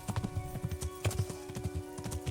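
Rapid rhythmic hoofbeats clop steadily as a horse trots along in the video game Kingdom Come: Deliverance, with a sustained tonal hum underneath; the horse may briefly whinny.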